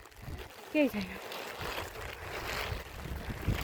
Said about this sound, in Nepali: पानी अझै परिरहेछ